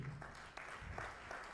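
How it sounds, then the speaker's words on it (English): Audience applause at a social entrepreneurship conference, a steady even patter of many hands clapping in a hall, faint and continuous throughout with no voices. "Now, a round of applause to all our panelists and even our moderator for today."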